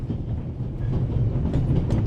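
Inside a rattling rail carriage in The Raven Remastered game, a steady low rumble with soft clattering of the wagon, loud and continuous throughout.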